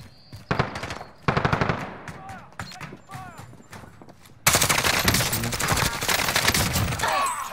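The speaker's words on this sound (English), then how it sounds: "They're shooting back." Heavy bursts of enemy gunfire in a Call of Duty match, rapid automatic volleys that come in and out at first, then a continuous loud barrage, with players talking over it.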